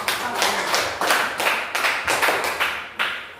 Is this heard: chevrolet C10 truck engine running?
no